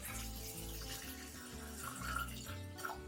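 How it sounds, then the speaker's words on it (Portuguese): Water runs from a tap into a container holding candles for a plant physiology photosynthesis experiment, a steady close splashing gush filling the vessel with a slight rise in pitch, with no voices. "Agora, coloque água no recipiente até cobrir metade das velas."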